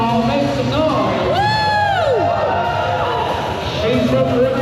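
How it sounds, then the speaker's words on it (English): A crowd at a Harley-Davidson bikini contest in Palm Beach cheers loudly and continuously, with whoops and rising whistles over a dense roar of noise. "Round of applause for contestant number 4, Brandy."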